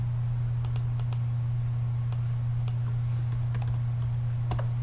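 Scattered keystrokes on a computer keyboard as measurements are entered, a handful of soft clicks spread unevenly over a steady low hum, with no talking.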